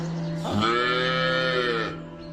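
A single drawn-out moo from a calf, loud and close, lasting over a second before fading.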